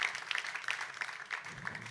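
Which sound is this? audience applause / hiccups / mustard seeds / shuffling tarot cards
audience applause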